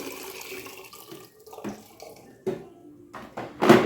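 Hot water poured into an earthen pot of beef bone broth, a steady splashing pour that builds to a louder, fuller gush at the end, heard alone without talk.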